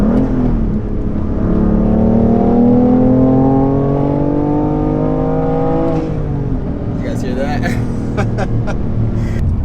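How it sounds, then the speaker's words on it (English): A BMW F80 M3 engine pulls hard under acceleration in third gear, its rising harmonic drone joined by a turbo whine, then easing off with a few higher whistling tones near the end. "I wanted to do a nice mini pull so that way you guys can hear the turbo spool"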